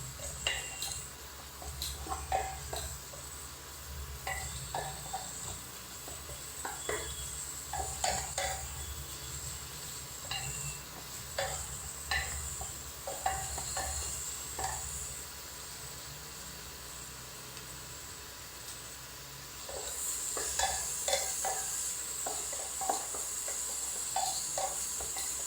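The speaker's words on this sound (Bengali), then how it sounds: "এবার একটু ভালোভাবে নাড়াবো পেঁয়াজটাকে।" Onions fry in a pan, with a constant soft sizzle under repeated clinks and scrapes from stirring against the metal, close and fairly quiet, with intermittent bursts of activity.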